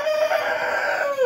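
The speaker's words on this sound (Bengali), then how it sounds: "সোনালি মোরগ দেখেন কিভাবে ডাকতেছে" A golden-colored rooster on a Dhaka farm gives a single loud, close crow with a long sustained middle and a rising, falling tail, heard alone without talk.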